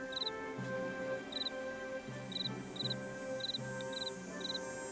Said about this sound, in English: I think I hear a cricket.